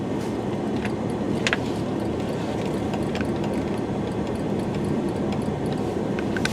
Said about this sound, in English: Throw her in drive, and away we go.